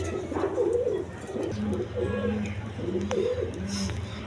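Domestic pigeons offered for sale in pairs give repeated low, rolling coos close by, with overlapping calls forming a continuous murmur and faint background noise.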